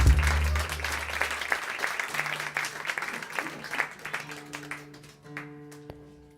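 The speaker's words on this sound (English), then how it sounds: "Let's give her a round of applause as she comes on up." An audience at a live house concert applauds as a performer comes up to the stage, with a dense burst of clapping that gradually thins out and fades while a tonal hum sounds underneath.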